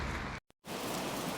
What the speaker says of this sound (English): the rain's arrived